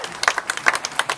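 Brief burst of audience applause at a political talk, scattered claps rising and falling over about a second, moderately loud with no voices on top.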